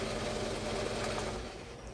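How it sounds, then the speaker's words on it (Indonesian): A vehicle engine, with its starter under suspicion, cranks and catches, runs as a steady rough rumble close by, then is switched off and the sound drops away. "saya hidupin tuh, langsung cer ya saya matiin lagi ya"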